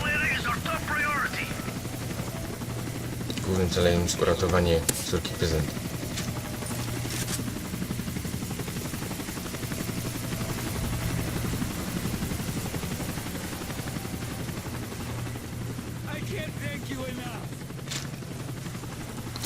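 Steady rotor drone of a helicopter in the video game Call of Duty: Modern Warfare 3 Special Ops runs throughout beneath someone talking in Polish, with bursts of gunfire and game effects cutting in now and then.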